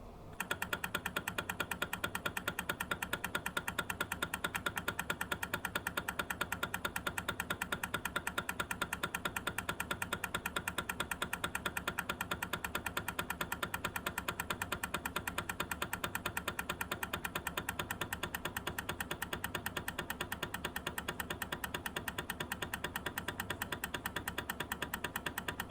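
TE 55 tribometer running a reciprocating test at 4 mm amplitude and 10 Hz with PAO4 lubricant, a steady, fast mechanical chatter that repeats evenly and stays at a constant low level throughout.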